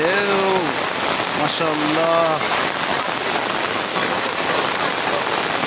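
Heavy rain pours down outdoors at a fishing spot in a loud, dense, continuous hiss, with a voice briefly heard near the start.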